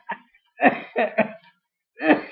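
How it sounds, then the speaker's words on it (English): A person coughs in several short bursts, one brief hack and then a close cluster of harsh coughs, a pause and a final cough, with no talk in between. "You're making me cough."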